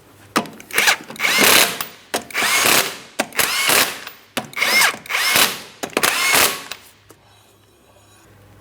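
Power tool zipping 19mm lug nuts onto the front wheel of a 2003-2007 Cadillac CTS, about seven loud bursts in an uneven rhythm, each lasting under a second, with short gaps between and quiet at the end.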